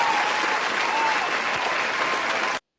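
A canned applause sound effect plays during a live stream, a brief burst of steady crowd clapping that cuts off abruptly.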